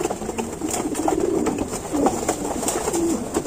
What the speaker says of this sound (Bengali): ওইটা আমার অনেক ভালো কবুতরের বাচ্চা